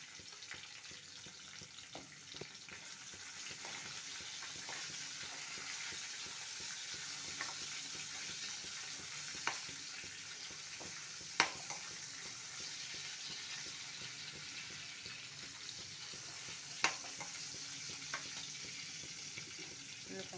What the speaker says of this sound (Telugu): కరివేపాకు కొంచెం వేసుకోవాలి ఫ్రై అయ్యాక కొంచెం ఇంగు కూడా వేసుకోవాలి